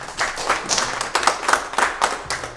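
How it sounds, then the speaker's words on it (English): Film festival audience applauding at the close of an evening event: a crowd of hands claps steadily at close range, dense and bright, with uneven louder bursts throughout. "give yourselves a round of applause"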